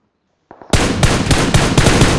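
Firecrackers bursting in a loud, rapid crackling string, one sharp pop followed by continuous dense bangs that keep going without a break.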